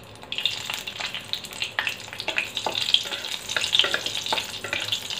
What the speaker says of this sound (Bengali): কাঁচা লঙ্কাটা একটু ভাজা ভাজা হোক।